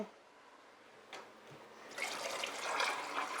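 Water pours into a cooking pot for a plant-based tikka masala, a faint start followed by a louder, steady splashing fill in the last second and a half.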